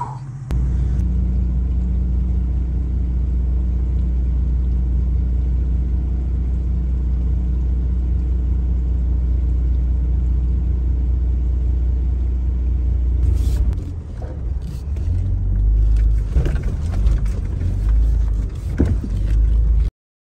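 A Jeep Cherokee crawls along an icy off-road trail strewn with crushed ice. Its engine holds a steady, loud low rumble, and near the end the rumble dips briefly before clunks and scrapes break in.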